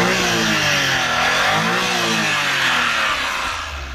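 Mazda Scrum wagon engine running close by, revving up with a rising and falling pitch, then settling toward idle near the end, steady and loud with no talking.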